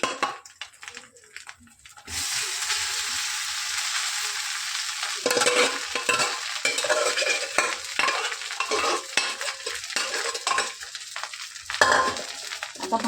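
Cooked rice stir-fried in a pan for egg fried rice: a spatula scrapes and tosses the grains against the metal amid a steady hiss of sizzling oil, with irregular scraping strokes, close and loud.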